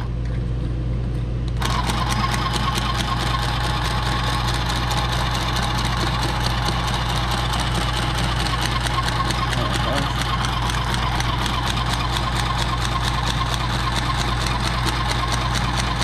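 A sewing machine stitching RV windshield curtains starts up after a moment and then runs in a fast, steady mechanical chatter, loud and close over a constant low hum.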